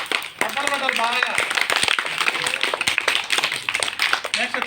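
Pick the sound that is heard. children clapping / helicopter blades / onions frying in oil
children clapping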